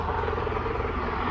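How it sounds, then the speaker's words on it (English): A loud helicopter roars close by in a steady, heavy drone with rotor throb, as it passes overhead and comes in to land. "The helicopters are loud now"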